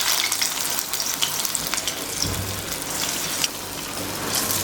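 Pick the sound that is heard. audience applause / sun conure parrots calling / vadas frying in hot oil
vadas frying in hot oil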